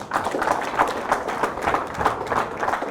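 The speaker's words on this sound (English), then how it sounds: "Let's give them a round of applause." Crowd applauding at a Nigerian sports event honouring young players, a dense steady patter of many hands with soft rhythmic surges, fairly close and continuous.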